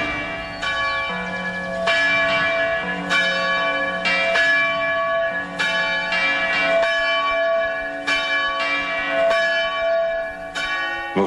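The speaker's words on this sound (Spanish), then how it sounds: "No sé con qué autoridad decidieron tocar las campanas." Church bells ringing in a repeated, overlapping pattern of loud, resonant strikes with long ringing decays, heard alone with no voices.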